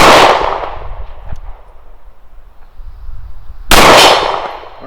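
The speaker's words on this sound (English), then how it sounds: "it's an FN high power 9mm, circa early to mid 1990s" Two loud, sharp pistol shots from an FN Hi-Power 9mm from the early to mid 1990s, fitted with Robar and Cylinder & Slide enhancements, each crack followed by a short ringing decay, spaced a few seconds apart.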